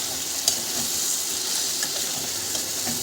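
Soybeans and chhena fry in a pan for a chhena soyabean curry, a dense loud sizzle with occasional scraping stir strokes and faint steam hiss throughout, no voices.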